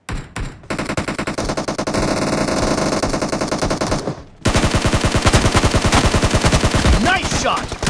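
Sustained automatic gunfire in a video game team deathmatch, loud and close, two long rattling bursts split by a short break, with no talk over it.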